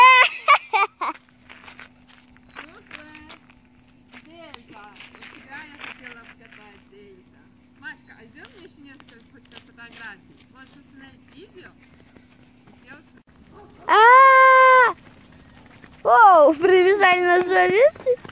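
Sheep run up over open ground with light hoof patter, followed by two loud, close bleats near the end; people talk quietly earlier on, over a steady low hum.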